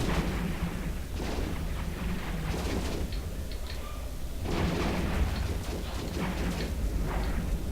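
Ship weapons fire at an enemy cruiser in the space game EVE Online, producing repeated heavy booming volleys in bursts over a rumbling background, with no voices.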